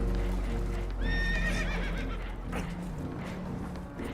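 Spooked horses in Red Dead Redemption 2 give a loud, shrill, wavering whinny partway through, over a dense background of hoof clatter, rumbling noise and commotion.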